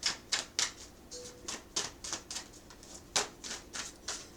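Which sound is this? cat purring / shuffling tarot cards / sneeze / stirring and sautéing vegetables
shuffling tarot cards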